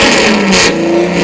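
A modified car engine fires up and revs hard, a loud, close, continuous roar that swells and eases over a brief moment with no talking.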